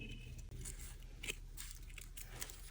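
Scissors snipping through paper to make shredded crinkle paper for a gift box, a few faint crisp cuts close by over a steady background hum.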